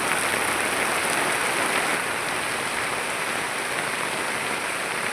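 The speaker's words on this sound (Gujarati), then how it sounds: "ખતરનાક વરસાદ ચાલુ થઈ ગયો" Heavy rain pours down in a steady, dense hiss that stays loud and even throughout, with no voices over it.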